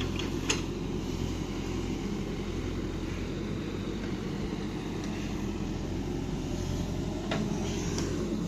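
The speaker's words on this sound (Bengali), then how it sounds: "এই মেশিন দেখুন এই যে ভিতর থেকে মাটি নিয়ে আসতে পারছে" A digging machine scoops soil from a pond under repair, heard as a steady, loud, low engine drone throughout with a few faint clanks on top.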